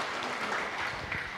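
Audience applause during a public Buddhist puja service at a vihara, a short burst of steady clapping from the congregation filling the room evenly.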